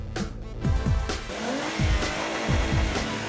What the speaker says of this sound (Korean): 굉음을 내며 빠르게 질주하는 차들이 제 두 눈을 사로잡았습니다.